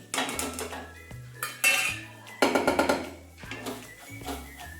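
Dry spices and masala for a whole masoor dal curry being stirred and sautéed in a metal pan, with repeated loud clanks and scrapes of a spoon against the pot, rattling in irregular bursts close up.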